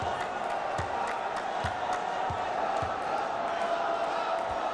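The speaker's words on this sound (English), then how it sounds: "The crowd's getting into it now. Cheering for Paolo." A volleyball arena crowd at a club world championship gold match between Perugia and Itambé Minas cheers steadily in the distance, a broad roar with repeated low thumps underneath.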